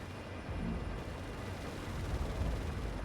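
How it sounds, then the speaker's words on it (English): Explosions tear through a refinery compound in the Tom Clancy's EndWar video game, heard as a continuous dense roaring rumble of blasts and fire, steady and fairly loud throughout. "Explosions inside the refinery compound."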